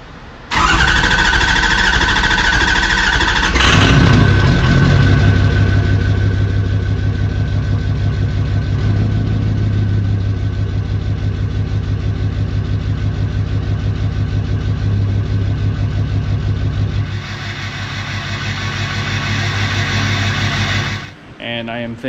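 A Ford 6.0 Powerstroke diesel pickup truck engine cranks cold, catches and settles into a loud, steady idle with a low, uneven misfiring rumble from a sticky injector that runs on before shutting off near the end.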